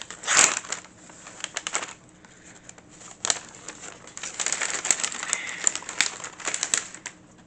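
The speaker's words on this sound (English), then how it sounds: "I'm going to make ripping noises" Packaging is ripped open in several sharp crinkling and tearing bursts close by, with quieter rustling in between and no talking.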